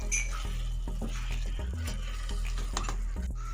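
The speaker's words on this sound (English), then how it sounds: "Give it a quick stir." Meat sauce with dry herbs and flour being stirred in a pot, with soft scraping and light clinks of a utensil against the pan over a low steady simmer.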